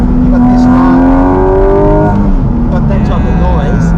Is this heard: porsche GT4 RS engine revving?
yes